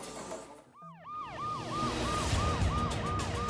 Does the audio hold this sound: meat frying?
no